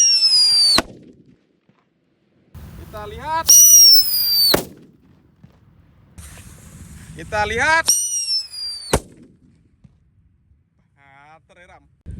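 Whistling firecrackers and Roman candle fireworks go off in several bursts, each a piercing whistle followed by crackling, with quiet gaps between them and someone speaking briefly.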